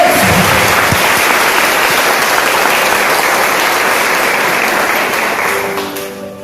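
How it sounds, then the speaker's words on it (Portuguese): A church congregation at a Catholic retreat applauds loudly, thick steady clapping filling the room for several seconds before it begins to fade as a voice starts at the very end. "Pode aplaudir para frente. Aplaude aí, igreja."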